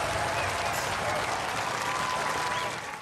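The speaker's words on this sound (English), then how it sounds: "Ladies and gentlemen, give them a round of applause." Studio audience applause for the super heavyweight winners on a robot combat show, a full, steady burst of clapping with faint cheers, tapering off slightly at the close.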